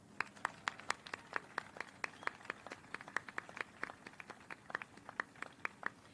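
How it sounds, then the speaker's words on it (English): Faint, sparse applause for first responders at a National First Responders Day ceremony, with individual hand claps sounding in a fairly steady rhythm at some distance. "One more round of applause."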